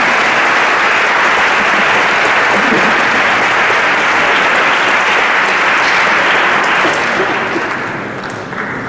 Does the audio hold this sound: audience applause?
yes